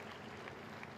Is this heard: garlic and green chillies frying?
no